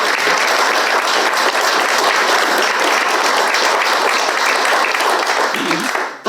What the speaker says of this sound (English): So we'll give you a round of applause.